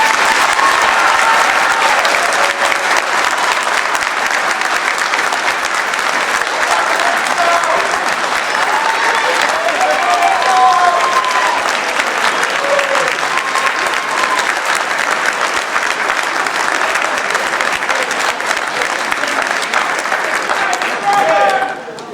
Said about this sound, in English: Please give them a heartfelt round of applause